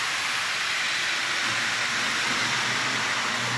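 A Lionel Cross Country Express model train pulled by a GP 20 locomotive runs fast on its track, producing a steady, loud, hissing whir with a low rumble underneath and no voices.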